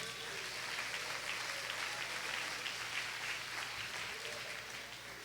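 A congregation claps steadily in church during a Sunday celebration service, a dense, sustained wash of applause that stays even throughout with no speech over it.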